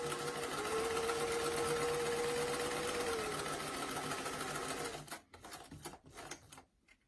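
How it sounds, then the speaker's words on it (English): A sewing machine stitches a doll dress seam, humming in a fast, steady rhythm for about five seconds before slowing and stopping, followed by a few soft handling sounds. "Go ahead and sew the dress from the hem edge to the dot."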